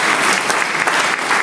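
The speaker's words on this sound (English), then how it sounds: "Just say you were magnificent and everybody applauded." An audience at Chichester Festival Theatre claps in a dense, steady wash of applause that holds at full strength throughout.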